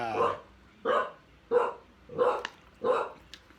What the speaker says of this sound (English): She's barking at a person moving by.